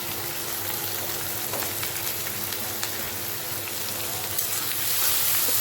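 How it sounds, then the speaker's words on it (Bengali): Onion and garlic fry in a pan, hissing and crackling steadily, with small pops scattered throughout and the sizzle swelling slightly toward the end. "আমি পেঁয়াজ রসুন আর রসুন দিয়ে আর কালো জিরা সম্বাদ দিয়েছি"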